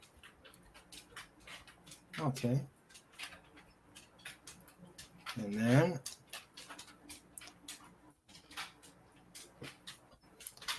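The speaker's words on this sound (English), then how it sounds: "you'll have to excuse the noise in the background. I have a pacing dog." Faint, irregular clicking of a dog's claws pacing on a hard floor, heard under a person talking quietly nearby.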